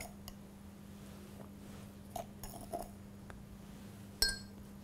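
Sugar dropped into a glass chemistry beaker: a few faint, sparse clinks and light rattling taps against glass, with a sharper clink near the end over a quiet steady hum.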